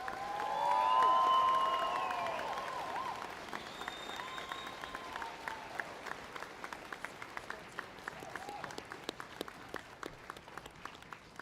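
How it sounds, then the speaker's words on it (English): Sustained applause at a 2023 high school graduation ceremony for the graduating class: a large indoor crowd claps loudly with a few cheers and whistles, swelling at first, then thinning toward scattered, rhythmic clapping. "Please give one final round of applause for your 2023 graduating class."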